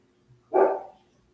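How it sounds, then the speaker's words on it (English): A single sharp dog bark, fairly close, standing alone against a quiet background. "She's barking."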